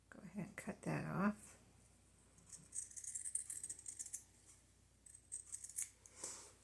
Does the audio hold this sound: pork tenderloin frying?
no